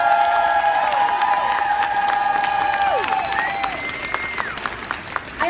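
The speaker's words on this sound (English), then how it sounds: "Give yourself a round of applause." Street crowd at the Portland women's march against Trump applauds and cheers, a steady wash of clapping with sustained whoops and shouts, then tapering into scattered claps.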